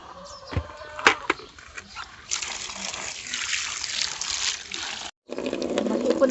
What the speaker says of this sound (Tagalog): Mag-ipon lang muna ako ng tubig.